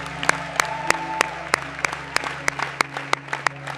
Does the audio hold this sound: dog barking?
no